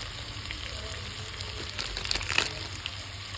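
Spices with salt, turmeric and cumin powder sizzling as they are stir-fried in a pan, with a steady close frying hiss, a few scraping stirs near the middle, and no talk.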